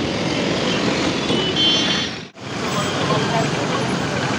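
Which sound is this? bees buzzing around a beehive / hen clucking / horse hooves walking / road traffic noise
road traffic noise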